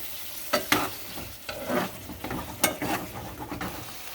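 Aloo gobi of potato and cauliflower with added cream, stirred and simmering in a pan: a soft steady sizzle broken by several scraping stirs of a spoon, close and without talk.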